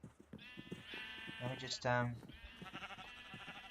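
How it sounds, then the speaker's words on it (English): Sheep in Minecraft giving a couple of close wavering bleats, mixed in with a person's voice that keeps talking over them. "There's a pink sheep."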